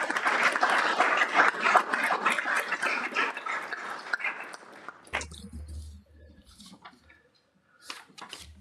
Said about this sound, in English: If you could join me in a round of applause for these individuals